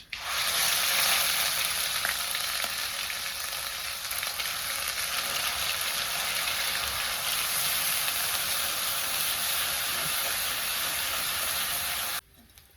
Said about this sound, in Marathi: आता ही सगळा मसाला तेलामध्ये आपल्याला टाकून घ्यायचा आहे